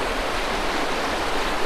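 Floodwater from a swollen river that has swept through a village rushes in a steady, dense roar. The sound is loud and continuous with no talking over it.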